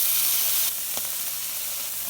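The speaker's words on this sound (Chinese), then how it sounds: "放焯过了的菜花" Blanched cauliflower stir-fried over high heat in a wok with oil and minced garlic, giving a loud, steady sizzle and hiss that drops a little after a scrape or toss partway through.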